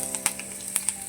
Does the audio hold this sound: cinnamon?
yes